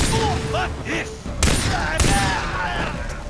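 Pistol gunfire in Far Cry 3, with a couple of sharp, distinct shots standing out over busy game sounds and a person talking.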